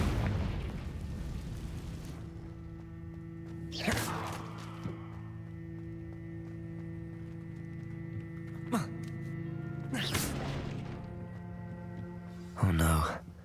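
A Confringo blasting spell from a Harry Potter video game bursts a few times over steady game music, with sharp, loud blasts spaced several seconds apart.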